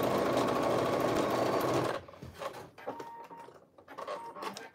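A sewing machine stitches a T-shirt seam in a loud steady whirring run, then stops, leaving faint handling clicks and brief short bursts of stitching.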